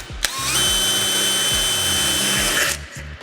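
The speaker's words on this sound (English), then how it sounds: "center punch it, and then drill a 1/4 inch hole" A power drill bores a quarter-inch hole for a bumper install: a sharp click, then a loud steady whine for about two seconds with a rhythmic low grinding as the bit cuts, before it winds down.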